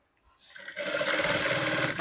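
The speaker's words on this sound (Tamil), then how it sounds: "அதே அளவு அப்படியே தைங்க" A sewing machine stitching cloth while finishing a tailored tassel starts up after a short quiet moment and then runs steadily and loudly in a continuous, even whir to the end.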